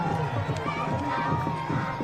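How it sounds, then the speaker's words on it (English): Crowd of fans lining the course at a world cycling championship race in Rwanda, a steady dense murmur of many voices with scattered shouts and cheers, sustained and fairly close throughout. "The crowd have been out there since 9 o'clock this morning watching the riders training on the course, and now watching the racing"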